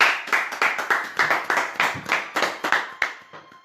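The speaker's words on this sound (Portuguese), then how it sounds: "Salve de palmas então para o nosso Senhor Jesus Cristo" A small group clapping hands in unison after a call for applause at a Catholic family prayer gathering, a steady rhythm of about fifteen sharp claps, close and alone.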